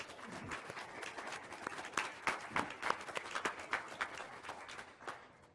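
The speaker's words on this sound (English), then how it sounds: "Give him a round of applause, please." Seated plenary audience at a Sitka conference gives a round of applause for Al McKinley, steady moderate clapping lasting several seconds and then tapering off at the end.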